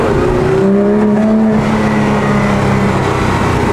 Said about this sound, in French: En fait, l'échappement, il s'ouvre.